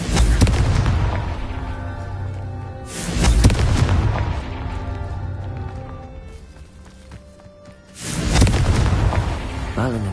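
Fiery Confringo spell blasts in the Hogwarts Legacy video game: a loud booming explosion opens, a second heavy blast lands around three seconds in, and a third erupts near eight seconds, each with a long rumbling tail.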